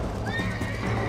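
A horse whinnies with a rising, wavering neigh over a quick clip-clop of hooves in the video game Red Dead Redemption, a short, close burst with no speech.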